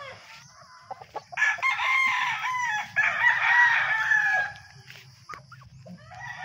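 Fighting roosters at feeding time on a Filipino farm, crowing loudly and close by in long overlapping calls, with clucking in between and a low flutter of activity underneath.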